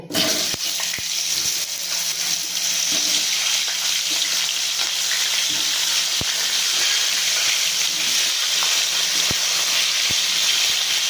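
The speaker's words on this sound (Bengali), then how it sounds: "এবার সিমগুলো ভাজা হোক কিছুটা আলুটা ভাজা হোক" Potatoes and flat beans fry in oil in a pan, a constant, dense hiss of sizzling that stays loud and even throughout, with a few faint clicks and no voices.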